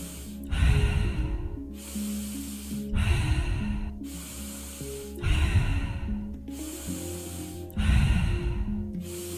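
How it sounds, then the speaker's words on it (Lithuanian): Four slow cycles of deep inhaling and relaxed exhaling in a cooling breathing exercise, each breath rushing in and out close to the mic with pauses between. "Gilus įkvėpimas ir atpalaiduojantis iškvėpimas."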